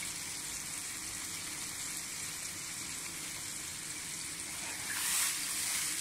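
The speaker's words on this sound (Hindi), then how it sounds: "थोड़ी देर इसको पकने दें प्याज को बाकी चीज़ों के साथ।" Onions and long-cut ginger sizzling in a pan, a steady soft hiss of frying that continues evenly throughout with no talking.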